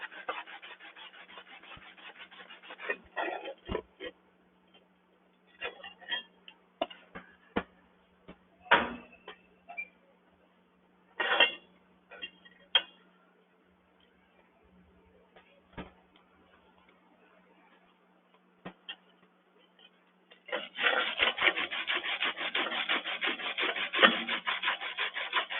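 A tool rubs and rasps against a stick-welded steel joint to clear out slag, in short scraping bursts with quiet gaps between them, ending in a longer sustained stretch of close, dry scraping.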